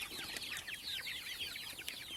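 Backyard chickens, including feathered-leg birds, cluck and chirp in a steady busy chatter of overlapping short calls, fairly close, with no talk.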